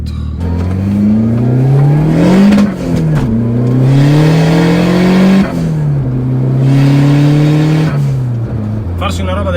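A Fiat Uno Turbo i.e. tuned to 230 hp accelerates hard, its engine note climbing through the revs and dropping at each of three gear changes, loud and close with turbo whoosh, as from inside the car.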